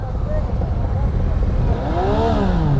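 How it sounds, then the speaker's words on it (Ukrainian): A motorcycle engine revs hard nearby in an outdoor autumn group ride setting, a loud continuous roar with rising and falling pitch sweeps toward the end. "хтось там газує"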